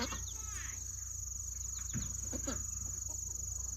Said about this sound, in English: are the turkeys over the water hose again?